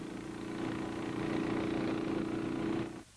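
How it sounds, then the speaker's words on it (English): A steady mid-pitched engine drone from a motor driving a fan that forces CS chemical into a sealed Vietnam War tunnel, running evenly for about three seconds before cutting off abruptly. "the engine is started."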